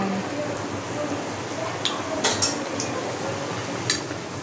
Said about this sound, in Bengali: এখন করছি আমি লুচি ভাজছি। তো তো লুচিটা আমি ছেড়ে দিলাম